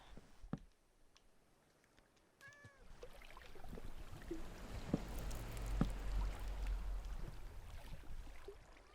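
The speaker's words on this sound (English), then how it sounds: "Kitty." A Minecraft cat gives a short, rising meow, followed by scattered clicks and soft watery movement, all heard quietly with no talking.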